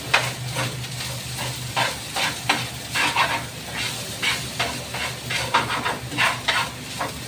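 Sinangag, Filipino garlic fried rice, being stirred and fried in a pan: repeated scraping stirs over a steady sizzle, close and fairly loud, with no talking.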